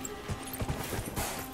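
Horse hooves clip-clopping in Dragon Age: Inquisition, a steady run of soft, evenly spaced thuds at moderate level with a faint ambient hum beneath and no voices.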